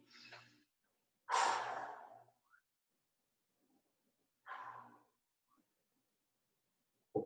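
Heavy breathing during an exercise workout: two loud, forceful exhales with a quiet gap between them and a brief sharp breath at the end, close and unaccompanied by speech.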